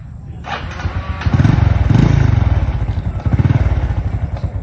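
A motorcycle engine runs close by with a loud, rhythmic, chugging idle that rises and falls as it is revved, with brief faint voices in the background.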